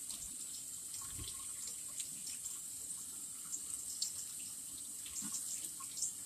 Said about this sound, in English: I want to rinse it with cold water.